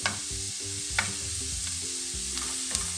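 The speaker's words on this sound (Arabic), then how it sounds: "نحركوا هذا البوارو حتى يتشحر عندنا مزيان" Chopped leek sizzles and frying steadily in a hot pan while being stirred, with a continuous crackling hiss and a few soft scrapes of the utensil, no voices.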